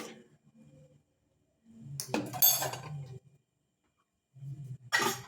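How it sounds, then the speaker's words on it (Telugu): A lid is set onto a bowl of onion curd rice, giving a few close clinks and scrapes of dish and lid in otherwise quiet surroundings, with a couple of brief clattering bursts. "ఇలాగా మూత పెట్టుకోవాలి"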